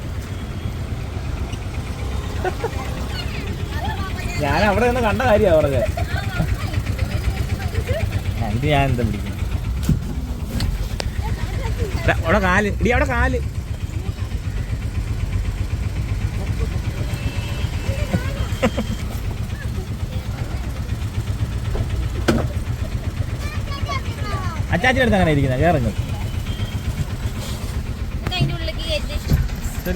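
A diesel auto rickshaw engine running on the way to Thrissur, a steady low rattling drone that continues throughout while passengers chat over it.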